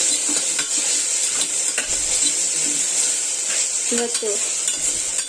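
Mint and coriander leaves frying and being stirred in a hot pan at home, a steady sizzle with scraping stir strokes and a few light clinks of a utensil, close and continuous with a brief spoken word.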